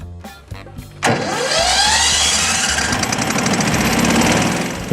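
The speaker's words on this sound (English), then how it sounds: "To start the machine, you just need to turn the switch and start the engine." A FrostGuard Revolution machine's engine cranks briefly, then catches and settles into a loud, steady mid-pitched running roar that continues to the end, with no voices.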